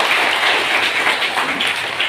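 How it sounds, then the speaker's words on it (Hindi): An audience claps steadily for Mallakhamb performers at a Krida Bharati opening ceremony, a dense, even wash of many hands at moderate volume with no voices over it. "जोरदार तालियां उनके लिए।"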